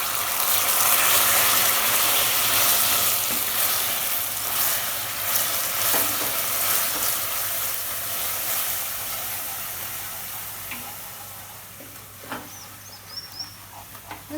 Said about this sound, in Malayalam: അത് ഒഴിക്കുമ്പോൾ ശ്രദ്ധിച്ച് ഒഴിക്കണം, പെതുക്കെ ഒഴിക്കണം, കാരണം പൊട്ടിത്തെറിക്കും